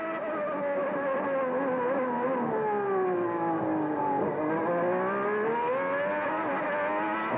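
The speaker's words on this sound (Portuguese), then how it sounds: "Curtindo o som do motor do carro de Nigel Mansell." Nigel Mansell's Ferrari Formula 1 car at the 1990 Australian Grand Prix, its engine screaming loud and close, pitch dipping and climbing as it shifts and accelerates without a break.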